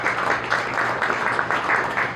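At a riverfront community event, an audience claps for an honoree, a moderate and fairly quiet patter of hands that pulses unevenly, with no voices heard.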